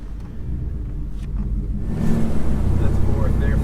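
A shop truck with no air conditioning drives along as its transmission shifts down. Its engine rumbles low and grows louder and deeper, with wind buffeting the cab and faint voices in the background.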